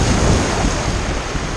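Ocean surf rolls onto the beach at Destin, Florida on the Emerald Coast, a loud, continuous roar of breaking waves mixed with wind buffeting the microphone.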